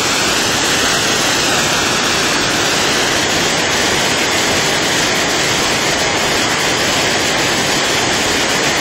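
Buttermilk Falls, a waterfall beside an old dam, pours in a steady, loud, full roar of rushing water that holds unbroken for the whole span with no voices.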